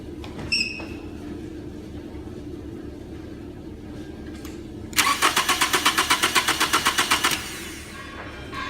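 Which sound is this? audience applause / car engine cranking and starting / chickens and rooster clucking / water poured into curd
car engine cranking and starting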